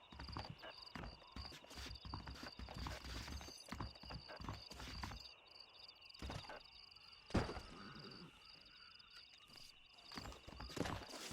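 Horses in the Red Dead Redemption video game clop along with steady hoof thuds on hard ground, fairly close and continuous, with occasional snorts and heavier knocks and no talk.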